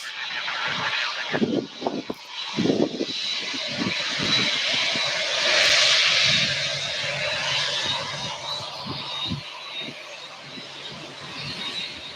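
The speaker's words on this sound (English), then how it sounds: "coming down Alpha right here, we have a UPS Boeing 747-8" A UPS Boeing 747-8 freighter jet taxis along an airport taxiway, a steady broad engine roar and whine at moderate distance that holds constant and swells slightly midway, with no voices.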